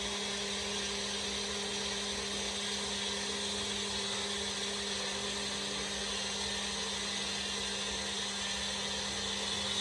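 A kitchen blender grinds a smoothie of mango pulp, pineapple, curd and heavy whipping cream, a steady, even whirring hum that holds constant throughout at moderate loudness.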